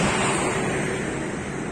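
A rain-swollen river near Manoel Vitorino, Bahia, rushes in a steady, loud, broadband roar close by, with some wind buffeting, for under two seconds.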